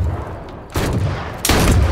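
Two loud, close gunshot blasts in the online survival shooter H1Z1, spaced under a second apart, each followed by a sustained ringing tail.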